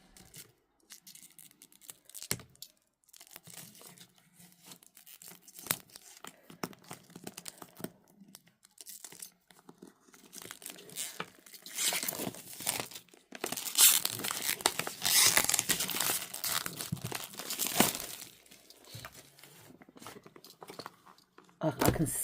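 Packaging on a tarot deck in a magnetic box is torn and crinkled open, giving irregular paper tearing and crumpling sounds that grow louder and busier in the second half, close by and with no talk.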